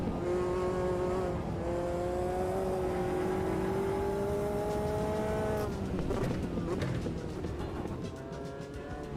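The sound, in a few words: race car engine in Automobilista 2 video game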